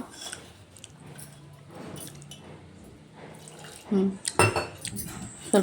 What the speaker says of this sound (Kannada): ಸ್ವಲ್ಪನೇ ಹಾಕ್ಕೊಂಡು ನೀರು ಮಿಕ್ಸ್ ಮಾಡ್ತಾ ಬರ್ರಿ